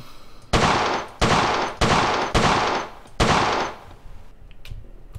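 Five loud, sharp Colt 1911 pistol shots at a video-game shooting range, spaced roughly half a second to a second apart, each with a short decaying tail, then quiet clicks.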